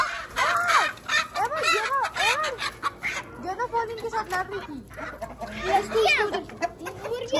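Chickens and a black rooster cluck and squawk close by in a busy, overlapping run of short calls, with a few louder cackling bursts in between.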